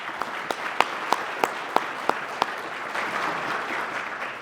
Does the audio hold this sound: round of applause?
yes